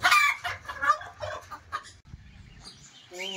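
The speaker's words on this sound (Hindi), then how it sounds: "इन सारे केजेस में हमारे 5 वैरायटी के हमारे यहाँ पे फैंसी चिकन अवेलेबल है हमारे पास" Fancy chickens of several varieties clucking in cages, with overlapping close clucks and calls and a brief higher crow-like call at the end.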